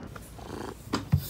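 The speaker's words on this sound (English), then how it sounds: "She's sitting here under this old desk, purring and waiting for dinner." A cat purring while sitting under an old desk, a soft continuous close purr with a couple of brief louder snuffly bursts toward the end.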